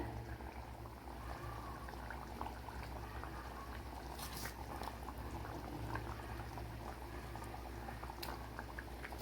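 Mackerel fish curry bubbling at a steady boil in a clay pot, a dense, continuous bubbling simmer that holds at an even level throughout, with no talking.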